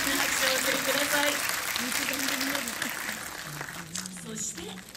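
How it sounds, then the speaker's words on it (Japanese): Audience applause at a film event for "Kaette Kita Abunai Keiji", clapping spread through the clip under a voice speaking over it, fading slightly toward the end. "改めて大きな拍手をお送りください。"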